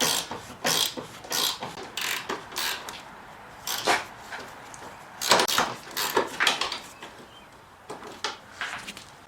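A ratcheting gear wrench works a strut nut on a 1999 Pontiac Grand Prix rear strut assembly, clicking in irregular bursts of rapid ratchet ticks with creaks and pauses between, close and fairly loud.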